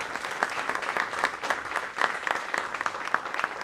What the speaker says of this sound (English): if we could give them a huge round of applause